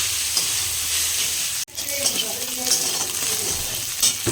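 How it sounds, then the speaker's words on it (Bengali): Vegetables and cabbage stir-fry in a pan for chow mein, giving a steady hiss and sizzle with occasional scraping stirs; a sharp knock breaks in near the middle before the frying carries on. "এই সবজিগুলো ভাজা হয়ে গেছে এবার দিয়ে দিয়েছি বাঁধাকপি"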